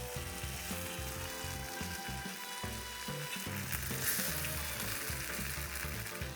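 Chicken breast frying in a hot pan gives a steady, close sizzle and crackle that holds for the whole stretch, with small pops and no speech.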